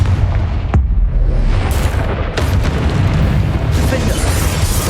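The Confringo explosive spell going off in Hogwarts Legacy as loud, booming blasts with sharp onsets and rumbling tails that stack over continuous dense battle noise.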